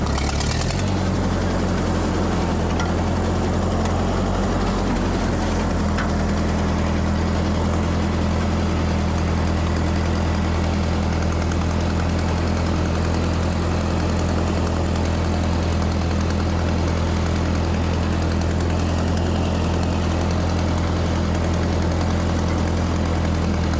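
A 1948 Ford 8N tractor driving slowly in second gear across an overgrown pasture, its engine a loud, steady, close droning rumble that keeps going without a break, no voices.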